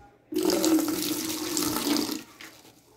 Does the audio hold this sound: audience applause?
no